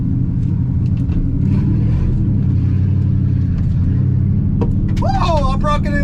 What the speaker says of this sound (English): His car is not sounding too healthy either. Sounds like it's misfiring or something.